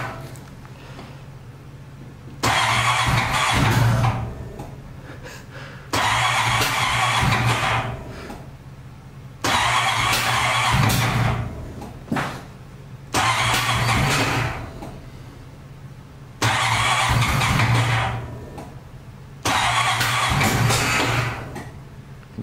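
A car engine cranking over and over on a cold day, struggling to start: six repeated bursts of a few seconds each with short gaps between, loud and near, no speech.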